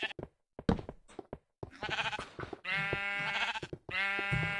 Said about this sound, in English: It looks like we've got a lot of sheep down here.